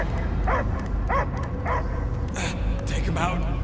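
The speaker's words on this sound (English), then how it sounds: "I hear only barking." A dog barks and yips in a few short bursts in the Guardians of the Galaxy video game, with a voice speaking between the barks over a low game background.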